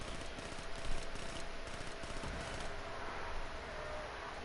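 Four-round burst rifle fire in Black Ops 3 Zombies, quick clustered shots that sound faint and busy under game noise and ambience, with no talking.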